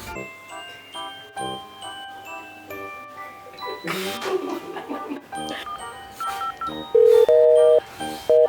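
Phone call left unanswered, with a sequence of tones and ringing pulses that start sparse, then grow busier with longer sustained beeps near the end, while a voice speaks over part of it.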